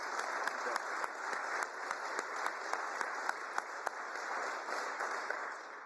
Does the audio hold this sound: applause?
yes